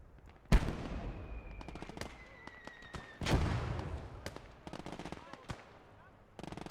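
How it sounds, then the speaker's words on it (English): Anti-tank grenade blasts in Gates of Hell, a World War II game: two loud, close explosions with rolling debris tails, followed by scattered rapid gunfire bursts and distant shots across the battlefield. "This is like an anti-tank nade. It explodes next to him."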